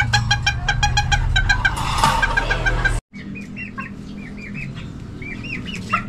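Chickens, including a Brahma, clucking loudly and close, then after a brief break, softer peeping chirps of chicks continue alongside.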